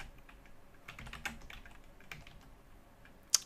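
Keys on a computer keyboard are tapped in irregular quick bursts while a terminal command is entered on Ubuntu 14.04, close and fairly soft, ending with one sharper keystroke.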